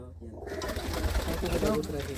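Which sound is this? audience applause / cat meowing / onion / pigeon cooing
pigeon cooing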